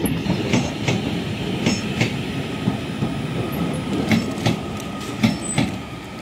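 A Class 331 train pulls in at Manchester Piccadilly station, with a steady rumble and rhythmic wheel clicks as it runs in, sounding loud and close.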